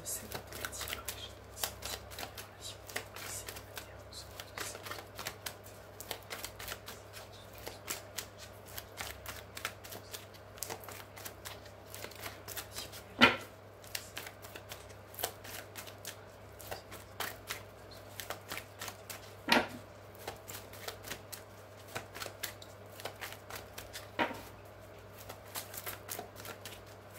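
Tarot cards are shuffled and cut in a steady stream of soft riffling and flicking, with a few sharper slaps as the deck is cut, while someone talks quietly in French throughout.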